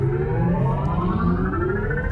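The electric Mini Countryman SE gives off a synthetic driving tone, a smooth rising whine with layered harmonics that climbs steadily as the car accelerates, heard close and steady with no talk.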